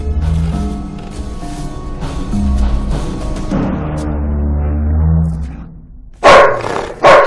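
A dog growls and barks in a horror-drama scene. Low rumbling growls are layered under ominous music, then two sharp, loud barks come near the end, close up and with no speech.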